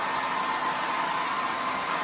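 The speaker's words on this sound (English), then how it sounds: "I'm gonna ramp up the hairdryer a bit" A hairdryer cranked up to high blows steadily onto wet acrylic paint, drying a blue area during a System3 acrylic painting session; a continuous airy whoosh with an even, unbroken level throughout.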